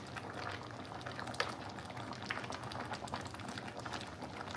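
Red cabbage at a rolling boil in a pot, a steady close bubbling and seething with small pops running continuously throughout.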